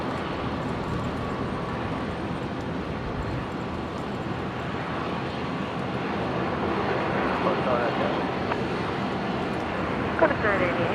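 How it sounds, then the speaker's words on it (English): A Link Airways Saab turboprop lands on runway 19 left at Brisbane, arriving from Dubbo; its steady mid-distance engine roar grows a little louder in the second half, with radio or background voices faintly present. "the Link Airways Saab coming in here on 19 left from Dubbo"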